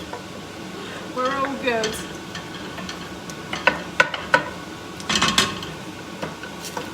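Onions frying in a pan are stirred with a sizzle and scraping clatter, joined by sharper utensil knocks and clinks, while a person speaks briefly over the cooking.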